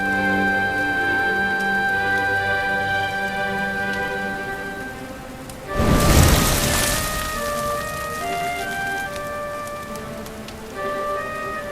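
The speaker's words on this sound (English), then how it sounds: "Looks like the rain's dying down" Steady rain patters on surfaces in Dragon Quest XI: Echoes of an Elusive Age beneath soft melodic music, with a brief heavier rushing swell midway.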